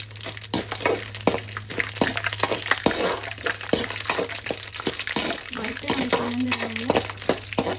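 Two large chopped onions fry in a pan for mint rice, a close wet sizzle broken by frequent stirring clatters, with someone talking over it and a steady background hum.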